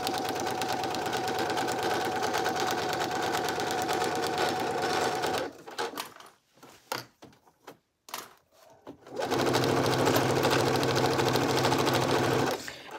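Sewing machine sewing a garment seam with a short backstitch, a long loud continuous run, a pause broken by a few scattered clicks and knocks, then a second steady run.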